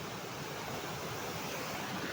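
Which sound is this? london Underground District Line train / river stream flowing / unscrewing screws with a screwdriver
river stream flowing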